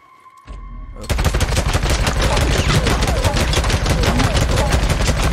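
Sustained rapid automatic gunfire in a horde fight in a shooter video game, a dense unbroken burst starting after a second of quiet and holding loud to the end.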